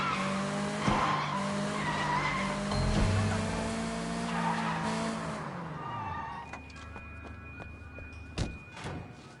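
Car tires squeal and skid in the open-world action game Sleeping Dogs, a loud sustained screech with pitch sweeps over an engine drone, easing off partway through into scattered thumps and clicks.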